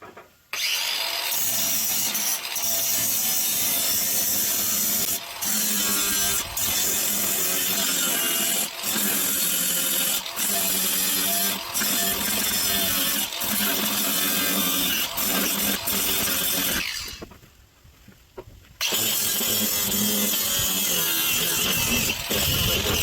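Power tool grinding and buzzing steadily as sheet metal screws are backed out of plywood in a garage, loud and continuous with a brief pause near the end.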